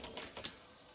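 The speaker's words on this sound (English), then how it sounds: "start the water here, rinse that pan out." Kitchen tap water running to rinse out a pan, a brief, steady rushing hiss with small splashing bursts, close and moderately loud.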